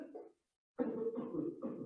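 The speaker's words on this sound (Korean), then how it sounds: "근데 누가 콜록콜록 기침하면" A short sound burst, a brief pause, then a longer rough, breathy stretch close by, like a person coughing.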